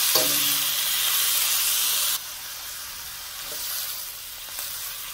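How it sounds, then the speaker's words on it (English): Beef for Peruvian lomo saltado sizzles loudly in a hot pan, a steady frying hiss that drops abruptly to a quieter crackle partway through, with faint stirring clinks and no talking. "I'm gonna cook that up for a few minutes,"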